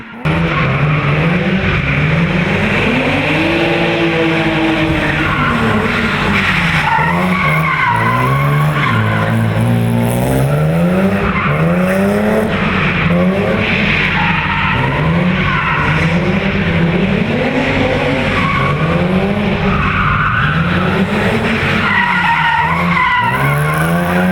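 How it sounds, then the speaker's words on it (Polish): Car tires screech and skid during a drifting show on a town square at a winter charity event, a loud continuous wailing squeal with shifting pitch over a steady engine roar, sustained throughout. "Najgłośniejszym zaś z pewnością było darcie opon w pokazach samochodowego driftu."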